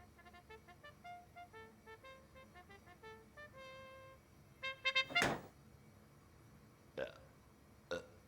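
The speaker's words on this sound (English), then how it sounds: "The blind hitting the window made the sound of burping." A window blind knocking against a window makes burp-like sounds, with one prominent loud burp in the middle and a couple of shorter ones later, over quiet musical notes.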